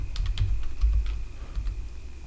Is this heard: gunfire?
no